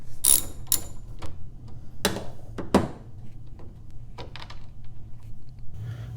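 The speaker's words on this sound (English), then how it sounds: "we'll have to remove a screw in the back of the headlight, which is located straight in the middle of it." Mechanical clicks and ratcheting at the back of a Tesla Model S headlight as a 7mm screw is backed out, a few sharp close taps over a low steady hum, no talking.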